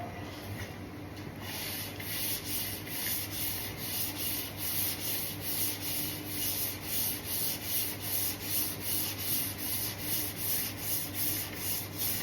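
Hand block sanding on a car body panel being prepped for paint, a long block worked in steady back-and-forth strokes, close and continuous with a regular rhythmic rasp and no talking.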